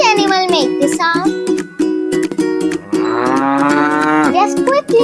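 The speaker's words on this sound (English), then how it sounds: "Yes, it's a cow." A single cow moos loudly and close, a drawn-out bellow with several long calls in sequence, presented alone for a children's animal-guessing game.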